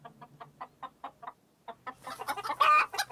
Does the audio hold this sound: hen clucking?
yes